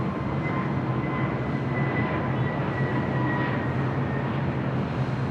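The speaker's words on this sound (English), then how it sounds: "That flight arriving was WestJet Flight 1698 coming in from Vancouver on the 737-800" A WestJet Boeing 737-800 arriving at LAX from Vancouver, a loud steady jet roar with a broad rushing wash and a faint whining engine tone, sustained and even.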